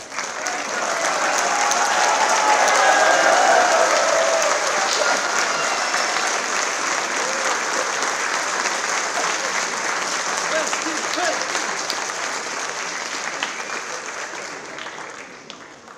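Sustained audience applause fills an international Urdu poetry mushaira hall in Bahrain, a dense wash of clapping that swells early, holds steady, then tapers off toward the end, with faint crowd murmur beneath.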